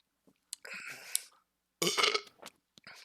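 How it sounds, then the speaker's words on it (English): A man lets out two loud, drawn-out burps indoors, the second one stronger, separated by a short pause and followed by a few faint clicks. "Respect on the burp."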